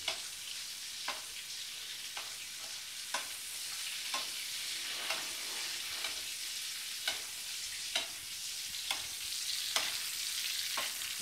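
Lamb seared in a hot pan with melted butter gives a continuous soft sizzle, while a spoon basting it clinks and scrapes at roughly one-second intervals, close and moderately quiet.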